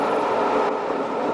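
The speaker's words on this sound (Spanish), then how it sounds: "Los raíles son tan propios del ferrocarril que no solo son su imagen, sino que le han dado un sonido característico" A train runs along railway rails with a steady, dense rumble and rolling rail noise, loud and continuous throughout with no pauses or voices.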